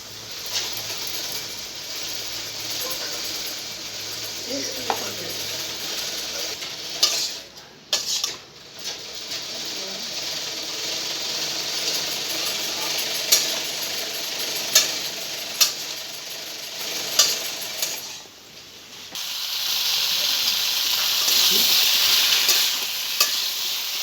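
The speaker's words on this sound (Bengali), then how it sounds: "সব সবজির সঙ্গে মশলাটাকে আমি ভালো করে কষে নিয়েছি।" Vegetables cooked with a ginger, green chilli and cumin paste sizzle steadily in a pan for the whole stretch, with a spoon scraping and stirring through it in repeated bursts; there is no talk.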